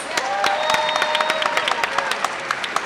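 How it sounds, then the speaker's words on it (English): Audience at a university honors convocation breaking into applause, steady crowd clapping with sharp individual claps standing out and a few voices under the sound. "Let us give our Master of Ceremony and Mistress of Ceremony a big round of applause."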